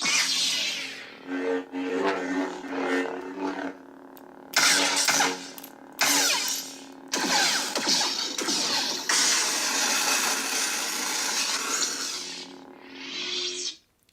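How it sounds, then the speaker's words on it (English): Lightsaber effects from a Neopixel lightsaber's Mandalorian Luke sound font play in sequence: a low electric hum with sharp swings and crackling clashes, ending in a rising then falling retraction. "This is the Mandalorian Luke sound font."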